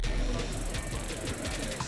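Homing pigeons coo softly in a brief moment at an early-morning Philippine homing association race release in MacArthur, Leyte, with a low murmur of background noise.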